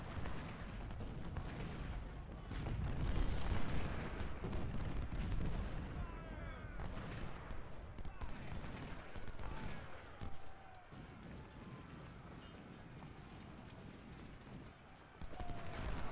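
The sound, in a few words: gunfire and artillery in Ultimate General Civil War video game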